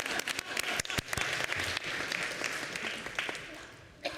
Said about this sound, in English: we do believe in clapping